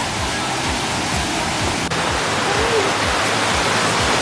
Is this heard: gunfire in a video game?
no